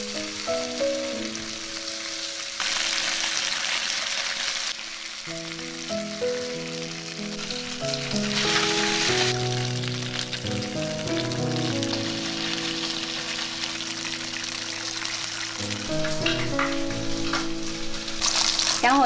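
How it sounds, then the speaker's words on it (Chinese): Sea bass pieces pan-frying in a little oil in a flat pan, a constant crackling sizzle running under melodic background music, with louder spitting surges in places. "加入少许油，把鱼块放下来煎"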